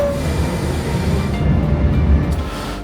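Washington metro train rumbles loudly and steadily, a continuous heavy rolling roar with faint rail clatter throughout, close by as though from on board or the platform, with no voices.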